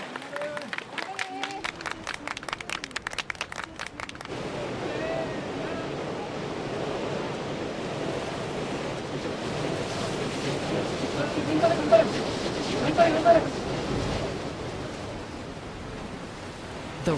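Ocean waves and steady wind at sea off Yonaguni, Okinawa, where rowers in a small boat cross open water; a continuous rushing roar of surf and gusts with no clear breaks, loud and close.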